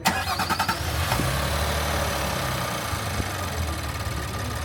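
A 2025 Nissan Patrol's 3.5-liter twin-turbo V6 cranks with a short burst of rapid starter pulses, catches, and settles into a smooth, steady idle hum, heard close with no talking.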